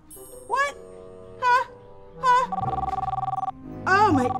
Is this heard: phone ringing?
yes